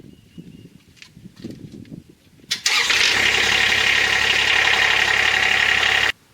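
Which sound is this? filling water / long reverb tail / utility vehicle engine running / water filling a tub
utility vehicle engine running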